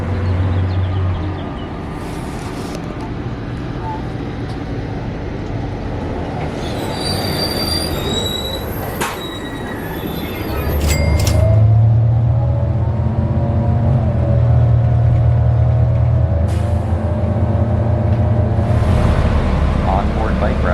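An sbX rapid transit bus in San Bernardino pulls in with sharp, high brake squeals, then settles into a loud, close, idling engine rumble.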